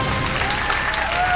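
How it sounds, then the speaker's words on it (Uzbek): A studio audience at a youth quiz show claps for a contestant after her correct answer: dense, loud, continuous applause from many hands, with no break over the whole stretch. "qarsaklar Zarinaga"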